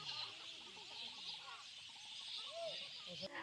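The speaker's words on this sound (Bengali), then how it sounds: "সানসেটের পরে পাখিদের ঘরে যাওয়ার যে মুহূর্তটা, কিচিরমিচির সাউন্ডটা জাস্ট অসাধারণ" Flocks of birds return to roost at sunset over Baikka Beel wetland in Sreemangal, with faint, distant chirps and calls overlapping across a steady airy background.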